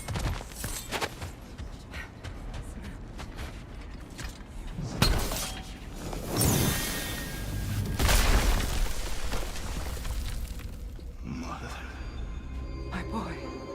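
A large mechanical door grinding and creaking open in the game God of War Ragnarok, with heavy thuds and rumbling gears building to a deep boom, under talk.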